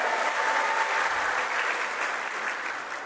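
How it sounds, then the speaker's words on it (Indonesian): Thunderous applause from a hall of NasDem party cadres in West Sulawesi, dense and sustained at a loud, even level throughout, with no voices standing out. "Berikan tepuk tangan yang gemuruh untuk dia."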